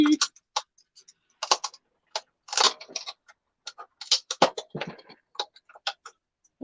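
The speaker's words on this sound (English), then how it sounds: "There we go. It's a little relay." A small electrical relay clicks repeatedly in irregular bursts of short, dry ticks and clatters, close and fairly quiet with silent gaps between them.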